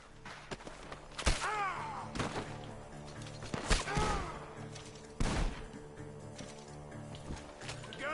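Gunfire from a barn in a video game, several sharp, loud shots cracking at irregular intervals, each with a short ringing tail, over a low ambient background.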